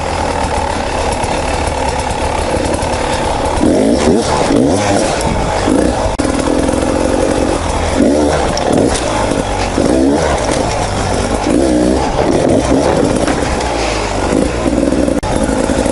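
A motorcycle engine roars loud and close while riding and shifting up to second gear around a log, with steady throttle and quick blips and rev swells throughout.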